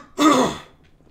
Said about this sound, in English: every time I talk, now I got to clear my throat.